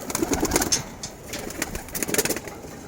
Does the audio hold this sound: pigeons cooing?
yes